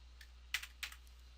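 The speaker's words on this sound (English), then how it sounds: "type final line here" Quiet computer keyboard typing while entering HTML code: a few soft taps, then two small clusters of keystrokes close to the microphone over a low hum.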